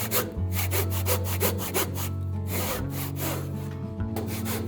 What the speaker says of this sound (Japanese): このノコを入れるのが一番ノコ入れでしにくいですね。